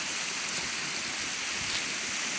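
Ponikiewka stream in Międzybrodzie Bialskie flowing as a steady, broad rushing hiss of water, close and continuous with no voices.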